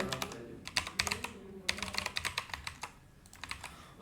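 Quick, uneven keystrokes on a computer keyboard during coding, clicking in close bursts with short pauses, fairly quiet and with no voice over them.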